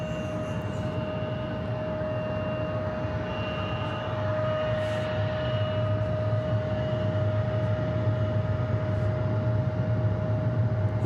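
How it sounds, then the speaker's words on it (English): A jet airliner arriving at Atlanta Hartsfield-Jackson airport on a hazy day, heard as a distant, steady low roar with a sustained tonal whine, rising slightly in loudness over the span. "I'm hearing a jet near me, but I don't see it."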